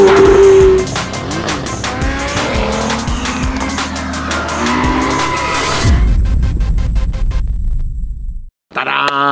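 Fast car accelerating hard with rising engine revs and tire squeal, loud and close, voices talking over it before the sound cuts off into a brief silence and a short burst of other noise.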